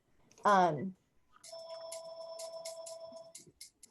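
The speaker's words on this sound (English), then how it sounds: "It's like I'm like, oh, it's my phone." A phone rings nearby in a repeating electronic trill during a talk session, following a brief burst of a voice speaking.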